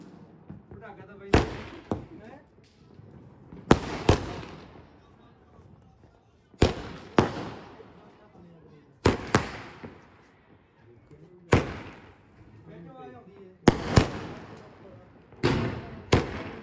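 Diwali firecrackers bang one after another, loud sharp explosions in an uneven series of about ten blasts, some in quick pairs, each trailing off in a crackling rumble, with people talking in between.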